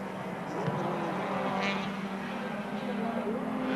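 A BMW touring car races at Surfers Paradise in 1984, heard as a steady engine drone from a distance with a brief rising whine, under a commentator's talk.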